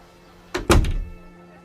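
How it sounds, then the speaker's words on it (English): A door swings shut with a single solid thunk followed by a short rattling settle, close and fairly loud against an otherwise quiet background. "And the woman closed the door."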